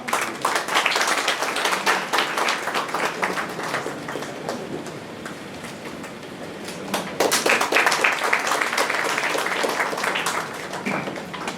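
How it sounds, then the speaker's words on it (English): Audience applause for a felicitation at a college startup conclave, a steady patter of many hands clapping for about twelve seconds, dipping briefly midway and then swelling again, with no voices over it. "Let us have a round of applause."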